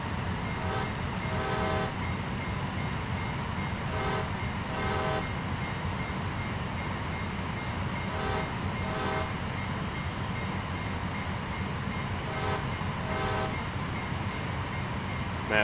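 A locomotive in a train simulator game builds speed with a steady, loud mechanical rumble, repeated bursts of clicking wheel and rail noise, and a brief horn-like tone near the end.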